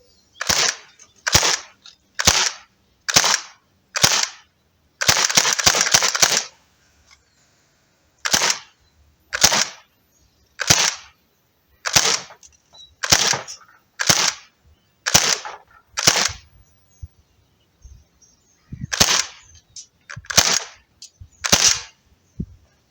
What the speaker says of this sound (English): it's just a mag dump, so just be shooting rounds in the cardboard